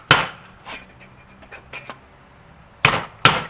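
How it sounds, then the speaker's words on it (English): Hammer blows knocking the bottom washer out of an Island Oasis SB3X bearing: two sharp, loud metallic strikes at the end, preceded by a few lighter taps and knocks, close by and with no talk. "You bang out the bottom washer."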